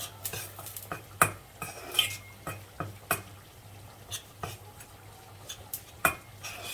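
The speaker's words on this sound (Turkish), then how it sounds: "Bunu da burada güzelce kavuracağız." Minced meat with chili flakes is sautéed in a pan for lasagna, with repeated scraping and tapping of a utensil against the pan in an uneven rhythm over a faint, steady sizzle, close and without talk.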